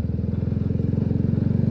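An Italika Vort-X 300R sport motorcycle rides along, its engine thumping in a fast, even pulse, loud and close with no voices over it.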